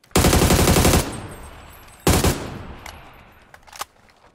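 Automatic gunfire in a battle royale video game: a sustained burst of rapid shots, a pause, a second shorter burst, then a few faint distant shots.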